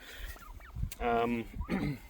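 A turkey gobbles nearby in a short burst, joined by a second brief call, over faint background noise, inside a wheeled chicken tractor pen.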